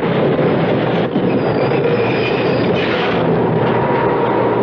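A subway train rumbles along in a radio drama sound effect, a steady loud roar of wheels and cars with faint clatter and squeal, heard alone without voices.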